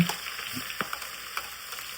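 Curry leaves and ground paste hit hot tempering oil already crackling with mustard seeds, cumin and asafoetida, cooking on a wood-fired clay stove; a close, continuous sizzle breaks into sharp pops and crackles, with no talking.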